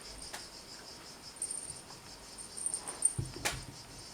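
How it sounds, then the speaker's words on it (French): Cicadas sing outdoors in July, a faint, steady high-pitched buzzing drone that runs through the whole stretch, with a few soft knocks and rustles nearby. "on va dire merci aux cigales hein, qui chantent"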